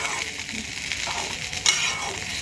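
Khichuri ingredients, including fried lentils, stirred and frying in a pan at home, giving a steady broadband sizzle with soft scraping stir strokes and one brief louder clatter near the end, no voices.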